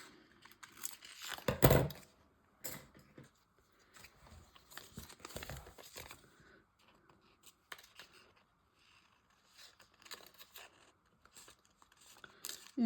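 Scissors snipping and paper crinkling nearby, a loud burst of cutting early on followed by scattered short snips and rustles with pauses between.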